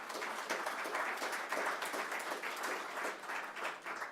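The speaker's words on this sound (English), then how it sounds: "Let's give them a round of applause for considering us." Audience applause at a business park project announcement in Burlington, steady dense clapping from a crowd sustained throughout, moderately distant and even in level.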